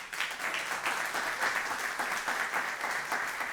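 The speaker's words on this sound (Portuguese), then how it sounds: "Uma salva de palmas." A church audience applauds after a Christmas cantata, a steady patter of many hands clapping at moderate volume throughout.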